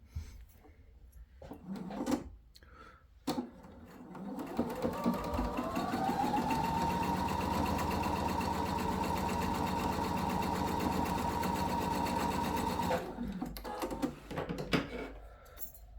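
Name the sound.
sewing machine sewing a seam on a sailor hat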